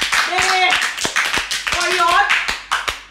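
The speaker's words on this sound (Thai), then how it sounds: "ปรบมือก่อนเลย" A series of sharp, evenly spaced hand claps from people reacting to the final episode of a Thai drama series, mixed in with voices talking and laughing.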